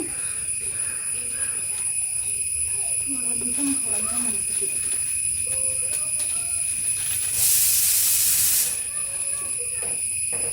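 Cashew nuts roast in a wood fire, giving a steady hiss with scattered crackles and a louder burst of steam, while someone talks over it.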